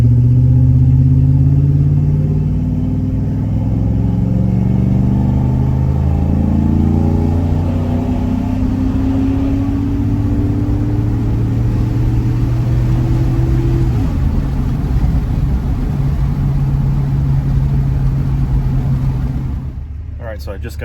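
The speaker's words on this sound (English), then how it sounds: "this is with the exhaust cutout closed and a Cherry Bomb Pro muffler with long tube" A GMC Sierra pickup with long tube headers, a Cherry Bomb Pro muffler and its exhaust cutout closed pulls away from a stop, its engine note climbing steadily through a long, deep acceleration before easing near the end.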